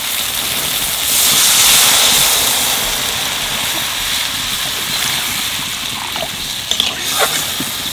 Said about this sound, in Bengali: মশলা দেওয়া জলটা এর মধ্যে দিয়ে দেবো